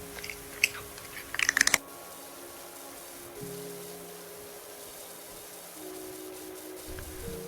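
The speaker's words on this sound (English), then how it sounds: "That kitty cat is eating something very crunchy." A cat crunches on hard food, heard as a single crunch and then a quick cluster of sharp, close crunches. Quiet room hum follows for the rest of the stretch.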